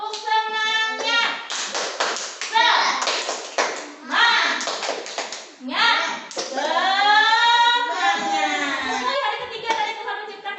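Children join in a rhythmic clapping chant in a religious-values class, with bursts of hand claps and taps in time with their sung, chanted voices, loud and close throughout.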